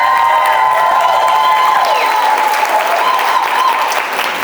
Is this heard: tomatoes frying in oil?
no